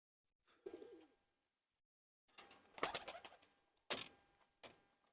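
Pigeons coo in soft, brief bursts, a low throaty call followed by a few rustling, flapping flurries separated by quiet gaps, faint and close.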